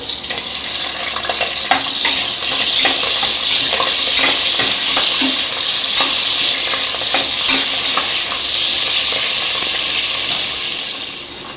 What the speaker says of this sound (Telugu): ఆనియన్ అయితే ఇంకా వేగలేదు, కొంచెం వేగాలి